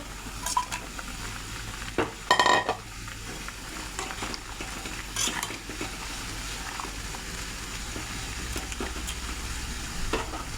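Pieces of fried tengra fish go into a pot of boiling papaya gravy, with a short splash and clatter near the start over a steady bubbling, simmering hiss; no one speaks.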